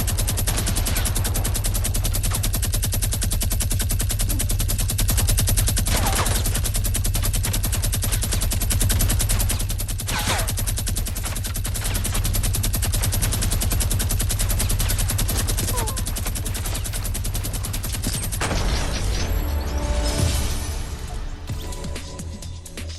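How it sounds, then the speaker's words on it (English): Minigun in Fortnite firing in a long, unbroken rapid-fire stream that stays loud and close for most of the stretch, then breaks up into scattered bursts and clatter near the end. "Just look at the minigun and tell me if you think that this is balanced."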